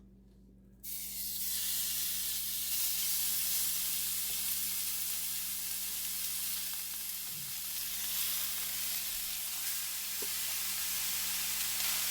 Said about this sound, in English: So I already got my skillet heated up, and I'm going to add the ground turkey.